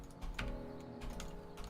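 Computer keyboard and mouse clicks while playing a video game, soft scattered taps and clicks in quick, irregular succession, faint and close with no voices.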